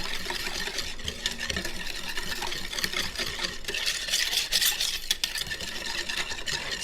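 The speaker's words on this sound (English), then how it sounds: "we're just going to whisk this to combine." A whisk stirring salt and black pepper into a wing marinade in a bowl, giving quick continuous scraping and swishing strokes close to the mic.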